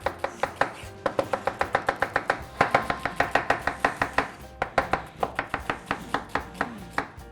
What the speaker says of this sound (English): we're just going to slice it quite thin